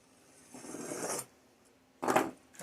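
An X-Acto craft knife slices through leatherette in two short, close scraping strokes, the first longer and softer, the second a brief sharper rasp, with quiet pauses between.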